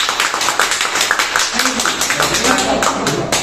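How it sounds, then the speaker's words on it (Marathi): Audience applause for an elderly man at a gathering, brisk rapid claps close and loud for a few seconds, with talk mixed in. "बाबांसाठी टाळ्या वाजवा"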